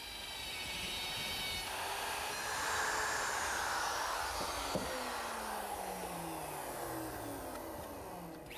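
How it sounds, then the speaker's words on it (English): Handheld router fitted with a dovetail bit cutting wood in a dovetail jig for kitchen cabinets, a steady high motor whine with a broad rushing hiss and shifting pitch as the bit moves through the fingers, moderately loud with no talking. "I'm going to use my router, which has a dovetailing bit in it, and a little collar that rides around the fingers of the jig"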